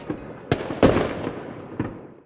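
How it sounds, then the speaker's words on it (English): Fireworks used as a sound effect in a radio advert, a handful of sharp bursts spaced irregularly with crackling decay, moderately loud and without speech. "Cue the fireworks, let's celebrate!"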